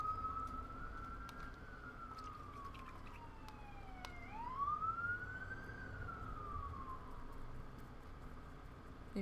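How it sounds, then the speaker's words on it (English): An ambulance and fire rescue siren wails past, its pitch sweeping up and down in long rising and falling cycles, moderately distant and continuous over a low traffic rumble, with no voices. "Maybe ambulance and fire rescue."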